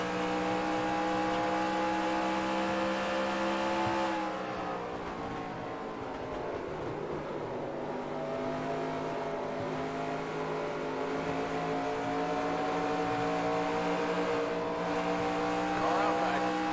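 Race car engine in a racing video game, droning steadily with harmonic whine, easing briefly off throttle around mid-clip then building back up, loud and continuous throughout.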